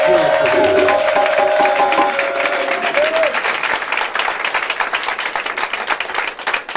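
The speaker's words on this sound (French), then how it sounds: "Est-ce qu'on peut acclamer Jésus?" A church congregation applauds loudly with continuous, dense clapping and a few raised voices early on, and the applause thins slightly toward the end.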